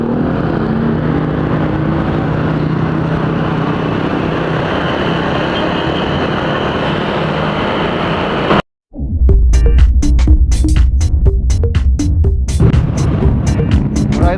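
Motorcade vehicles rev their exhausts on a street in Marilaque, a loud continuous engine drone that cuts out briefly, then returns as sharp, rapid revving bursts and pops up close.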